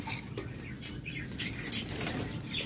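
A pair of tame pet birds flutter inside a cage. There are soft, brief wing flaps and rustles, with a slightly louder flurry near the middle.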